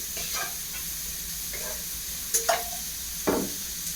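Onions sautéing in a pan for egg curry give a soft steady sizzle, with a few short bright scrapes of stirring standing out, and no talk over it.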